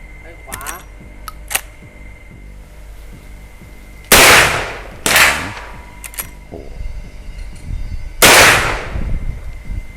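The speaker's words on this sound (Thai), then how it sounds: "ลองยิงนะครับ เป้าระยะ 20 เมตรที่ตำแหน่งหัว พร้อมแล้วเริ่มยิง" Three loud, sharp gunshots from a Marlin 1894 lever-action rifle in .44 Magnum, fired at a head-position target 20 metres away, ring out with a pause after the second; faint clicks and handling noises come before them.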